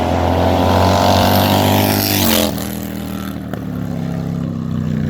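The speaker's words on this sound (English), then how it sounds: "That's a 110 cubic inch Dyna CVO." A Harley-Davidson Dyna CVO motorcycle with a 110 cubic inch engine runs loud and close, its deep steady drone rising in pitch, then easing off into a lower, rougher idle.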